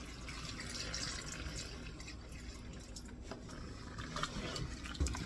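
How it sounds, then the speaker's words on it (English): Milk pours into a pot of potato soup, a faint, steady liquid trickle with a few small splashes at close range. "I'm going to add some milk in here."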